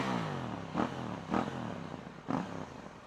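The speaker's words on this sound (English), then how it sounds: "Open the throttle and the bike just pulls" A KTM Duke 790 motorcycle pulls hard under open throttle, its engine droning steadily with three brief surges as the rider shifts through gears, heard from on board amid wind rush.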